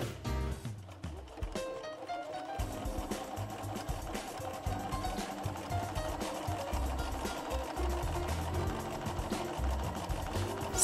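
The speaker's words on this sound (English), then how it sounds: "Start sewing again until the machine finishes the buttonhole and stops." A Bernina 380 sewing machine stitches a buttonhole, its rapid steady needle hum running continuously and close, with a brief quieter moment near the start.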